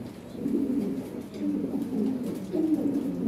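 Lahori Shirazi pigeons at a pigeon farm coo in repeated rolling phrases, several birds close and fairly loud, with soft overlapping murmurs throughout.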